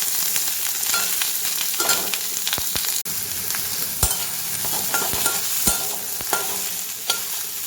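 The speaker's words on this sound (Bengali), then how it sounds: "ভেজে নেব পেঁয়াজটা।" Chopped onion with green chilli fries in hot oil with a steady sizzle, while a spatula scrapes and knocks against the pan in irregular strokes; no talking.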